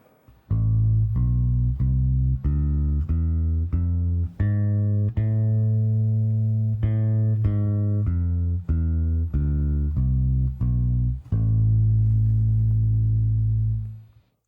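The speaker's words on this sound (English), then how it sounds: "I'm just going to play you an A harmonic minor scale so you can hear that sound." A bass guitar plays an A harmonic minor scale note by note at an even pace, ascending and then descending, ending on a long ringing low note.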